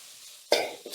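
Thoodhuvalai leaves and pepper drop into hot oil and ghee, a sudden close sizzle that bursts up and then fades, followed by a second smaller hiss as they are stirred.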